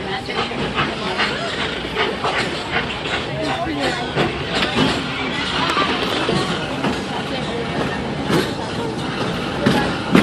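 The Magic Kingdom railroad train rolls along its tracks with a steady rumble, hiss and intermittent clickety-clack, people talking and ambient park noise mixed in throughout.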